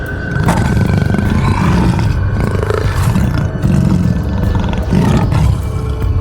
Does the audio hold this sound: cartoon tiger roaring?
yes